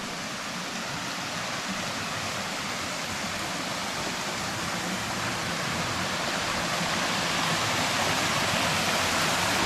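Water pouring out of a pipe through a farm pond's earthen dam, a steady broadband rush that stays constant and slowly grows a bit louder, with no voices.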